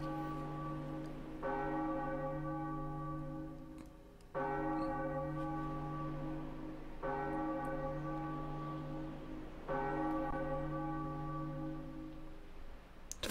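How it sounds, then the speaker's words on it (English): Large bell in The Wind Waker rung in four evenly spaced, resonant strokes, each tolling clearly and ringing out before the next, alone without talk. "who doesn't want to ring a bell like that?"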